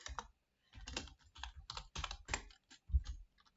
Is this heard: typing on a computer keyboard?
yes